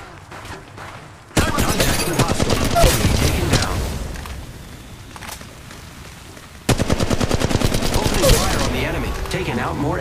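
Rapid automatic gunfire in Apex Legends Mobile on the Kings Canyon map, two long loud bursts of fast cracking shots with a quieter pause between them and faint scattered firing before the first burst.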